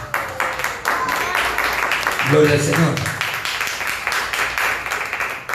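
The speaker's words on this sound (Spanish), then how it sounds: "palmas a Jesucristo" A church congregation claps for Jesus Christ in a steady, sustained wash of applause at moderate distance, while a voice calls out praise over it partway through.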